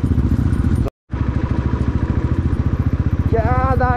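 Royal Enfield Bullet motorcycle engine on a mountain ride in Lamjung, Nepal, thumping in a steady, close, loud rhythm with a brief dropout; a faint whistling tone rises near the end.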